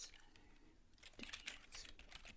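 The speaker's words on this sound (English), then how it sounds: "Typing can take a little bit longer." Soft typing on a computer keyboard, a short burst of close, quiet key clicks that grows slightly busier toward the end, with no voice over it.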